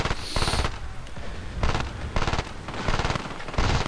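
Engineer's rapid-fire gun in the online shooter Battlefield Play4free, several dense bursts of automatic fire separated by short pauses, loud and close.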